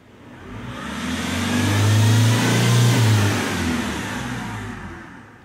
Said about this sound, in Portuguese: Eu vou acelerar ela aqui agora e vocês vão ver que ela agora vai subir